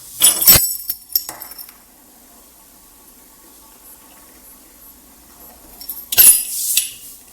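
Metal keys scraping and clinking against a tempered glass screen protector on an iPhone 15 Pro, two short bursts of close, bright scratching separated by a long near-silent pause.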